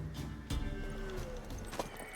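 A mare in The Witcher 3 video game, with soft hoof clip-clops and horse sounds over a steady bed of game ambience and music, quiet and close.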